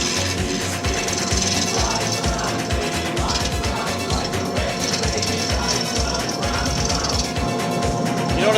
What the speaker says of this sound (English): We fire up the lathe. You see our piece is now spinning at about 1200 RPM.